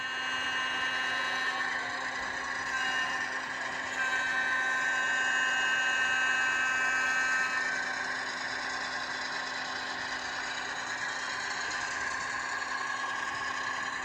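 An HO scale model ALCO RS-3 locomotive's motor hums and whines steadily at a constant pitch, close and continuous, with no talking; the engine hesitates.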